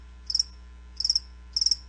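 Three crisp cricket chirps, each a quick pulsed trill, spaced evenly apart and standing alone over near silence.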